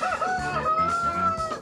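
Chickens kept at a school, a close, loud burst of rooster-like crowing and clucking calls lasting under two seconds, with no voices.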